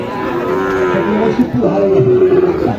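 A cow moos loudly and steadily up close at a cattle market, one long low call followed by another, over a busy background.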